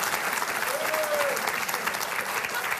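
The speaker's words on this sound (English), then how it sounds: "Why are you clapping?" A studio audience at a talk show claps in a steady, moderately loud wash of applause, with a host's voice partly audible over it.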